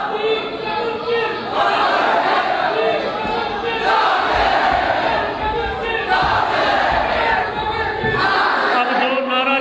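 A large crowd at a religious gathering in Raja Bazar, Rawalpindi, chants religious slogans in loud, rhythmic waves of massed voices, swelling and repeating call after call, close and continuous.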